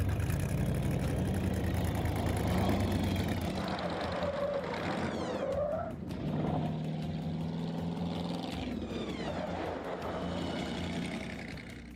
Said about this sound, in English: It's a real V8, supercharged, turbocharged, blown, nitrous injected.